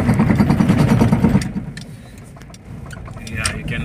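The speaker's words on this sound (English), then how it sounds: "the car is making some noise also." Car engine on a city street rumbles loud and close for about a second and a half, then drops away to a quieter, more distant background hum with scattered faint knocks.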